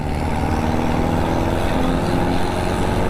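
Loud, steady engine drone of a jeepney on the Angono–Binangonan highway in Rizal, a dense continuous rumble heard from close by.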